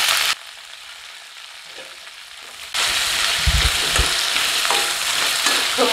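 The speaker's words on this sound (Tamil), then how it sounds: "இப்போ முள்ளங்கி நல்லா வதக்கி விட்டாச்சுங்க." Sliced radish sautés with onion in a hot pan, a steady hiss of frying that drops quieter for a couple of seconds, then swells back louder with stirring scrapes and clatter.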